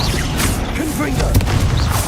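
A Confringo spell explosion in Hogwarts Legacy, fired during a fight with a giant spider, lands as a dull booming thump amid busy game sound, with someone talking over it.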